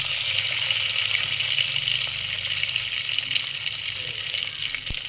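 Spices and garlic cloves crackling in hot oil for gongura dal, a loud, continuous close sizzle with faint spluttering and one sharp tap near the end, no voices.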